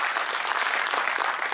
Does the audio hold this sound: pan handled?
no